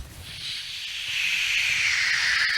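A voice imitates a battleship shell flying overhead with a long, rising, airy hiss that swells louder and holds steady. It is heard alone and close.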